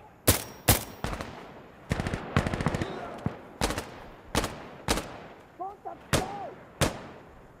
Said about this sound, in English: Call for chemical mortars!